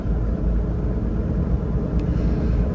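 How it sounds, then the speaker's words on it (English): Low, steady road rumble and tyre hum from aggressive tyres on a 2010 Land Rover Defender 110 TDCi station wagon cruising in sixth gear, heard from inside as a continuous loud drone without talk. "A little bit of tyre noise, but that's not unusual with these quite aggressive tyres it's got on it"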